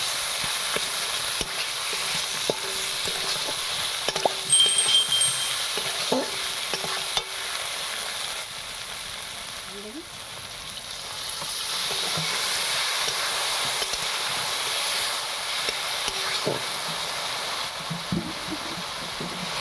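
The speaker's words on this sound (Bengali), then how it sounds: "হলুদ গুঁড়ো, লঙ্কা গুঁড়ো, জিরে গুঁড়ো, ভালো করে কষিয়ে নিতে হবে।" Turmeric, chili and cumin powder fry with ginger-garlic paste in a pan, giving a steady, close sizzle broken by scraping stir strokes, with no talking.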